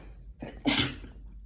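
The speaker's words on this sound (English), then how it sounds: "What was that sneeze about" A single sharp human sneeze, a brief breathy intake followed by an explosive burst, close and clear against a quiet room.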